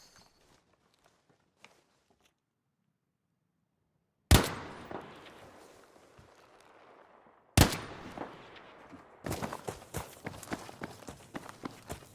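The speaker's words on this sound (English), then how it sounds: "Let's take a look at the bullet drop on the Stieg 44." Gunfire from a StG 44 assault rifle in Battlefield V: two loud single shots with long, ringing tails, then a rapid burst of closely spaced shots near the end.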